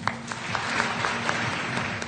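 Studio audience on a Pakistan vs India Asia Cup T20 special broadcast claps steadily and densely, a continuous wash of many hands close by with no talk over it.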